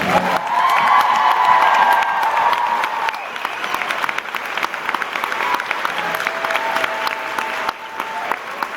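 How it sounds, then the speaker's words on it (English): A convention audience in Burbank gives a round of applause, loud dense clapping with some cheering that swells early and then settles into steady clapping for the rest of the stretch, with no one talking over it. "If we could just give them a quick round of applause."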